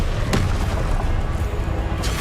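Confringo, a fiery explosive spell cast in Hogwarts Legacy, lands as a loud, close, booming blast with a sharp crack at the start and another burst near the end over a dense rumbling roar.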